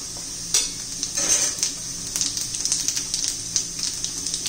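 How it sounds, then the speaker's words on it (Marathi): Mustard and cumin seeds splutter in hot oil in a kadhai, crackling with a scatter of sharp, irregular pops over a hissing sizzle, close and moderately loud. "जिरं मोहरी तडतडली की थोडीशी हळद घालू"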